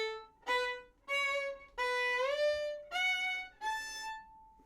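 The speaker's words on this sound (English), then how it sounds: "So if I play it with an audible guide note, it would sound like this." A violin plays a scale-line shift with an audible guide note, five or six clear bowed notes with a smooth pitch glide in the middle, close and alone with no talk.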